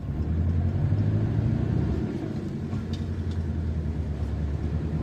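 A car drives along a road past a village toward a mountain pass, its steady low engine and road rumble continuous and fairly loud throughout, easing slightly partway through.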